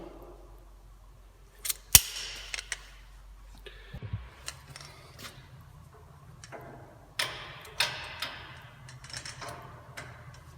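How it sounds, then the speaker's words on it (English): A torque wrench tightening the front wheel bearing bolts on a Toyota Tacoma to 91 foot-pounds, heard as a few sharp ratcheting clicks and metallic ticks amid low shop noise, with no talking. "Torque these to 91 foot-pounds."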